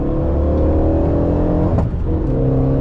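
A prepared Legend GT race car on a circuit with a greasy track surface, engine droning loud and steady as it slides, with a brief sharp burst near the end and no talk.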